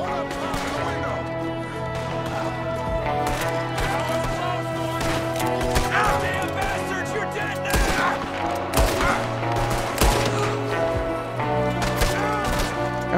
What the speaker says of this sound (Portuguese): É um tiro pra cada um.